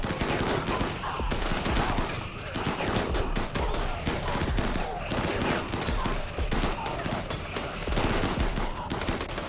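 Dense, continuous video game gunfire from several shooters, rapid overlapping automatic bursts that stay loud and near throughout.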